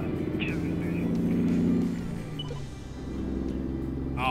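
Cat C15 diesel semi-truck engine in American Truck Simulator, a steady low rumbling drone that holds throughout, dipping briefly midway before swelling again, with talk over it.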